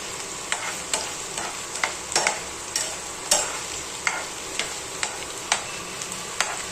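Onions fry in a pan under a constant soft sizzle, while a utensil stirring them taps and scrapes the pan at irregular intervals, close and clear.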